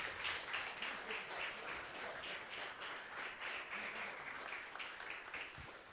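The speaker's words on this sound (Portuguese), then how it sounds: "Mais palmas ao Senhor." A church congregation claps in praise during a worship service, a steady, fairly faint patter of many hands that continues without a break.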